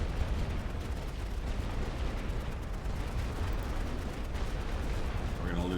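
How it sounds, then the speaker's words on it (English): Artillery fire in The Great War: Western Front, a First World War strategy game: a continuous dense rumble of distant shelling and scattered gunfire, steady and loud throughout, with a few faint speech-like traces. "Oh, here comes some artillery."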